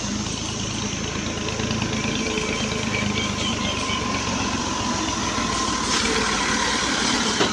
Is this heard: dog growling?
no